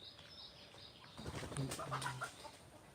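Desi chickens around a rural homestead give a few faint, soft clucks and rustles, quiet and somewhat distant.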